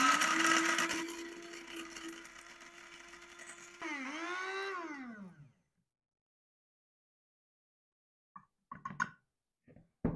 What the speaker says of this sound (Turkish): ikisini birlikte baharat öğütücüden öğütüp toz haline getiriyorum